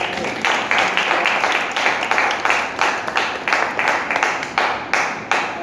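A church congregation claps together for the person who led the meeting, a dense, steady patter of many hands filling the room with no voices over it.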